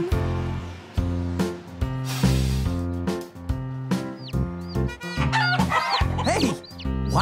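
Chicken clucks and a rooster crow woven into a bouncy children's nursery-rhyme song, with repeated bright cartoonish bird calls over a steady musical beat and bass.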